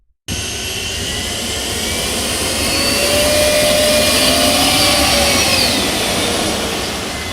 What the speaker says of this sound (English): This car didn't roar like a typical engine. It whined, almost like a spaceship.